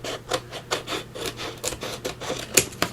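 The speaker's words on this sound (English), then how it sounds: "So I'm just going to trim off those rugged edges." Rough edges being trimmed off a board, heard as rapid, rhythmic rasping strokes close by, each scrape short and raspy, with a sharper hit near the end and no voices.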